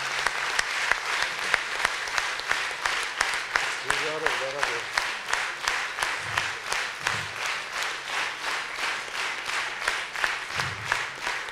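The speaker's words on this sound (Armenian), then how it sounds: "ես ուզում եմ նրան ծափահարել" An audience applauds the conductor Tigran Lalayan at an anniversary concert: sustained, dense clapping carries steadily and fairly loud throughout, with brief voices surfacing beneath it.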